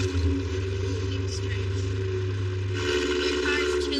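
A loud car engine rumbles steadily and close by throughout, with a low droning hum and some rise in higher noise toward the end; no clear talk over it.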